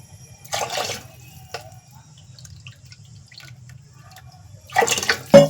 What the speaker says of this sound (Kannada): ಈಗ ನಾನು ನೀರನ್ನು ಎರಡೂವರೆ ಬಟ್ಲ ನೀರನ್ನು ಹಾಕ್ತಾ ಇದ್ದೀನಿ